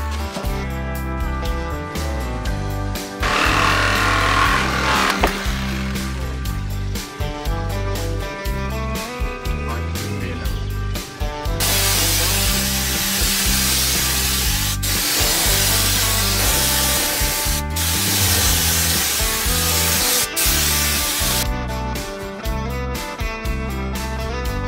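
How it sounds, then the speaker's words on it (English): Hacksaw cutting through old rusted screws, a loud continuous rasping with steady back-and-forth strokes that runs without pause, heard up close. "So I have to resort to one of my favorite tools, the hacksaw. This will cut through anything."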